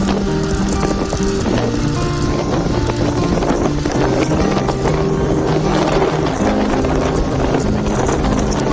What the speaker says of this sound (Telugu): మొత్తం అంతా బండి ద్వారా మనం 2 వీలర్ ద్వారా వెళ్తున్నాం